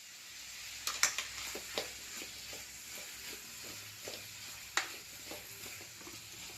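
Crushed ginger, green chillies and curry leaves frying in oil for an ash gourd curry, giving a steady soft sizzle with scattered sharp crackles and pops.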